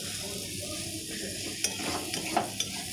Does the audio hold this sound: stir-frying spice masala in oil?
yes